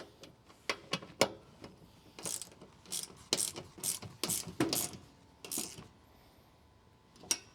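A wrench ratchets on the bolts of a Deezee under-seat drawer in an F150, giving sharp, close clicking bursts in uneven runs with pauses between strokes, then one last click.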